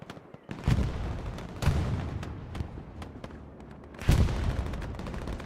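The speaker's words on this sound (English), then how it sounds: "Looks to be a MERC bombing run over the church" Explosions and gunfire from a bombing run over a church in the World War II shooter Hell Let Loose, several heavy booms landing in bursts with scattered shots between, loud and close.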